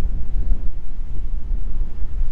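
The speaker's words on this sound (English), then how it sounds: "It's super windy" Steady, strong wind beside coastal cliffs on the Nullarbor in outback Australia, buffeting the microphone with a heavy low rumble, continuous and loud throughout, no voices.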